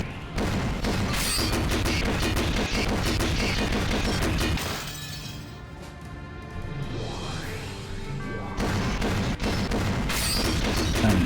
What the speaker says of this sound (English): If you hear the gunshot audio cutting out during these, that's not the game, that's me missing.